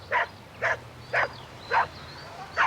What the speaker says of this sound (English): And he had no name, so we just called him Dog.